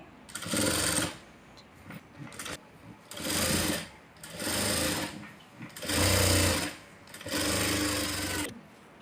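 A sewing machine stitches a blouse hem in four separate bursts of rapid, loud mechanical whirring, each lasting about a second or so with brief pauses between as the fabric is repositioned, heard up close.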